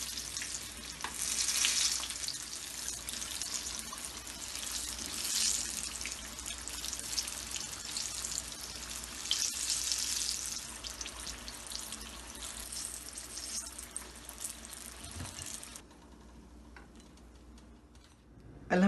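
Green chilli pakoras sizzle steadily in hot oil over a medium flame, a continuous bright frying hiss with small stirring clatters, dropping to quiet near the end.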